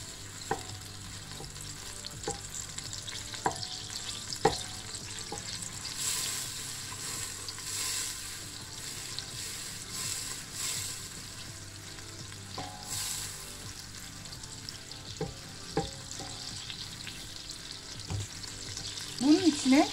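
Melted butter sizzles in a pan with a soft, steady frying hiss, while occasional light clicks and scrapes of stirring come through near the end.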